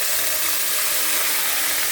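Ginger, cumin, garlic and onion pastes sizzle in a hot pan, a steady bright hiss with fine crackle that stays loud and even throughout, with no voices.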